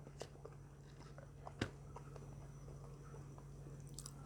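Someone eats hot grilled Isan sausage, with a few soft, scattered bites and chewing sounds, one sharper crunch midway, over a steady low hum in a quiet room.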